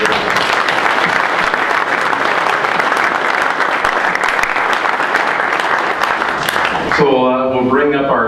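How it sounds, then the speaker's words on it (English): Loud, sustained applause from the crowd at a junior golf summer meeting fills the air for about seven seconds, then a speaker's voice takes over as the clapping drops away. "big round of applause"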